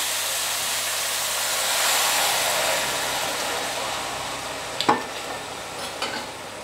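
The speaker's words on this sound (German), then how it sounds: "Dann ablöschen mit Weißwein." White wine poured over fish bones in a hot pot to deglaze them, giving a loud, continuous sizzling hiss that swells and slowly settles, with a couple of brief clinks near the end.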